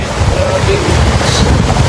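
Ocean waves wash steadily at a scenic seaside spot, a continuous broadband surf roar with heavy wind buffeting the microphone throughout.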